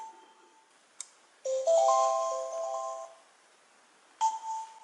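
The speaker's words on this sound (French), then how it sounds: "j'ai entendu le bruit de la cloche" A surveillance camera for a camper van powers on with an electronic chime, a short melodic run of clear bell-like tones followed by a softer chime a moment later, close and quiet with no talk.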